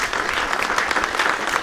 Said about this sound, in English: everyone give a round of applause for all of you that asked great questions and for Destiny himself for coming on out